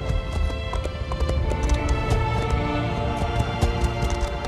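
Rapid rhythmic clip-clop of a ridden horse's hooves at a steady run in Elder Scrolls Online, close and continuous over a faint ambient game background with no speech.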